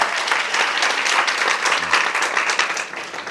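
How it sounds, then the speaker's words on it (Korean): A lecture audience at a youth startup mentoring session bursts into steady applause: dense, sustained clapping from many hands, fairly close and even in loudness throughout. "박수."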